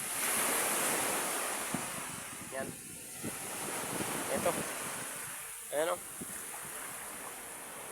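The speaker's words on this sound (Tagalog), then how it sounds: "Yung mga alon." Large ocean waves roll in under strong storm wind, a constant rushing wash with heavy wind buffeting on the microphone, while someone speaks briefly over it.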